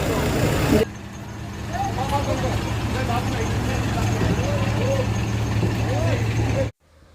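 Trucks and cars reverse in a line onto a ferry at the Dighi jetty in Maharashtra, a steady close engine rumble with repeated reversing beeps and chirps over it, and people talk nearby.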